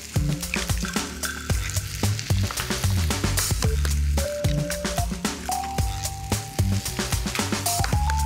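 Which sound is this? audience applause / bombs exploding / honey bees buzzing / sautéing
sautéing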